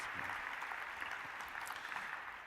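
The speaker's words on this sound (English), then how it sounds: "Let's give a round of applause" Audience applause at a university faculty convocation meeting, a steady dense patter of many hands clapping at moderate distance, somewhat faint and continuous throughout.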